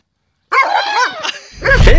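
A dog barks and yips at close range in a short run of loud, harmonic, whimper-edged calls, ending with a rough, low-pitched rumble.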